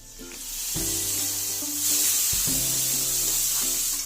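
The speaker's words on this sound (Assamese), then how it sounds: "এইখিনি ভালদৰে ফ্ৰাই কৰি ল'ব লাগিব। গেছটো কমাই থ'ব যাতে মছলাখিনি জ্বলি নাযায়।" Masala spices fry in a pan on low gas for a jackfruit curry, giving a continuous loud sizzle with occasional stirring scrapes and a low background hum.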